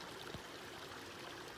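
Steady rushing and gurgling of a flowing mountain creek on the Thornton Lakes trail, North Cascades, Washington, fills the clip, even and continuous with no voices.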